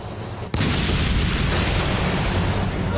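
A Beyblade spinning top crashes with a loud, sudden blast, followed by a dense roaring rumble of debris that stays heavy and close for the rest of the moment.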